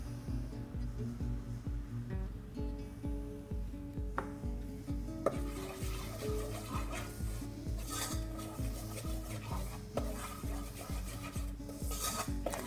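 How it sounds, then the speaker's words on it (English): Oil and spices stirred around the base of a saucepan for a turkey curry, giving a steady rhythmic scraping and rubbing that repeats throughout, close and moderately loud with no talking. "I'm stirring it around to make sure that that the oil is spread around the base of the saucepan"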